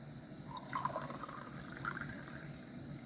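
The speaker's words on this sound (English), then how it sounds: "Then I'm gonna add cold water," Cold water poured into a cooking pot for Korean beef and radish soup, a short steady gushing fill with slight splashing, heard close and alone.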